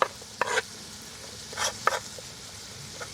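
Onion, thyme, garlic and scallion tipped into a pot and stirred for a Jamaican dish, soft sizzling under a few short stirring and scraping bursts, close but fairly quiet, with no voice.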